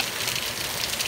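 A hailstorm pounds down at night. A dense, continuous hiss of hailstones striking surfaces sounds fairly close and steady throughout, with a faint low rumble beneath and no voices.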